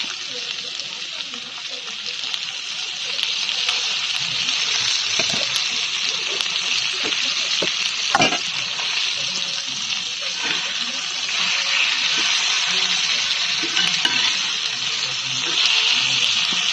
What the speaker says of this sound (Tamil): நல்லா வறுக்கணும் எண்ணெயிலேயே. ரொம்ப நேரம் கலக்கணும்